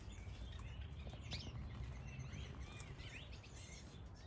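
Finches and weaver birds, including a yellow-crowned bishop, Gould finches and owl finches, chirp in a large outdoor summer aviary, with faint, scattered tweets and calls over a steady background hum and no voices.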